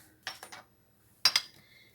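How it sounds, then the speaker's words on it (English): A knife slices apples thinly for apple puff pastry, making two quick pairs of crisp, close cuts separated by a short quiet gap. "Now you want to slice these pretty thin"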